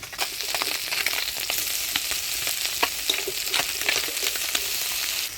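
Pieces of katla fish fry in hot oil in a pan, making a continuous crackling sizzle dotted with sharp pops, close up and without speech.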